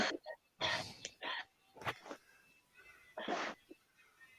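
A person sneezes in a short, explosive burst, surrounded by throat-clearing and coughing noises and brief breathy sounds, fairly close and isolated with quiet gaps between.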